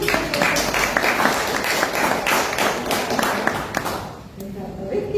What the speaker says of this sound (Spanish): yo te propongo un aplauso para esta parte